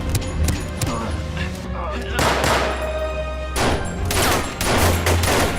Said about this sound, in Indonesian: terjadilah baku tembak kembali